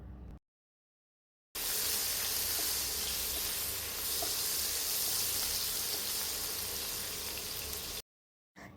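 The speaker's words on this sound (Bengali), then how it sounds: "এখন এই তেলের মধ্যেই 1 কাপ পরিমাণ পেঁয়াজ কুচি দিয়ে দিলাম।" A cup of chopped onions frying in hot oil: a loud, steady hissing sizzle that runs unbroken for several seconds, with silence just before and after it.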